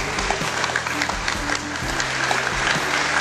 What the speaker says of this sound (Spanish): deberíamos darle un aplauso a todas las personas